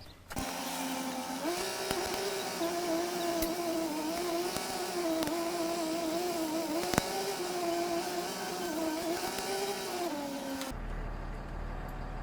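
A Peterbilt 536 mechanics truck engine runs steadily as it drives in circles, a sustained droning hum with a slight rise in pitch partway through, fairly loud and close, then cutting off abruptly near the end.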